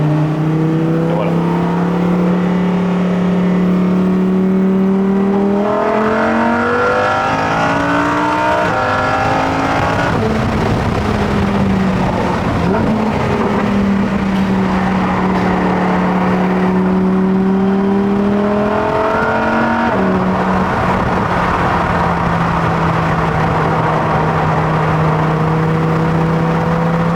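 A Lamborghini Huracán Performante V10 accelerates hard on the road, its loud engine note climbing through the gears in repeated rising sweeps with brief dips at the shifts, heard from inside the car.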